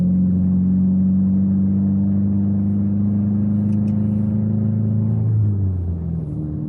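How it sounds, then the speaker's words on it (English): A Subaru WRX accelerates on a snowy city street with its wheels spinning past traction, giving a loud, steady engine drone close by that holds for several seconds and then drops in pitch as it eases off. "Just accelerating a little bit beyond the traction."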